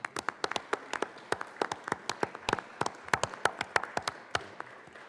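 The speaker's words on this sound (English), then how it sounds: "So let's please give her a round of applause." Scattered, sparse handclaps ring out in the Colorado Senate chamber for a NAMI representative, coming from a small group in an uneven, steady patter of distinct claps with little else heard.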